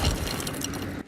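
A 6-ton concrete parking-structure slab drops onto cars in a loud, brief crash of crunching metal and shattering glass that cuts off abruptly.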